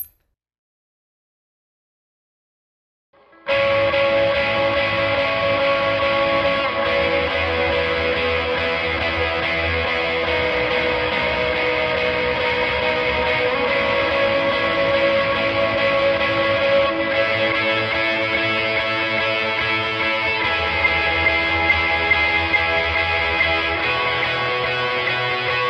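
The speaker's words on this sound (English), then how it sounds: "we're going to have our tone with both overdrives, our dotted 8th delay, and reverb" Silence gives way to a sustained, saturated electric guitar through two stacked overdrives, its notes ringing out in dotted-eighth delay repeats and a wide reverb wash.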